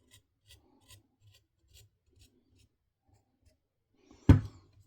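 A KME sharpening stone draws across a Bubba Blades fillet knife in a run of soft, evenly spaced rasping strokes, faint and rhythmic, ending in one louder, harsher scrape.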